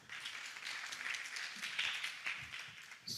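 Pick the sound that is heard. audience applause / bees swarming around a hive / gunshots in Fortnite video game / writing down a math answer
audience applause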